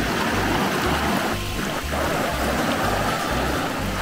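The Itadori River in Japan flows in a steady, close, broadband rush of water, with a brief faint murmur partway through.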